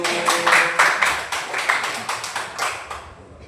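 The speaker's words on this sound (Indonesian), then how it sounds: "Iya, tepuk tangan dulu." A group claps in rhythmic unison, about a dozen sharp, loud claps in steady bursts that gradually fade, with no talking.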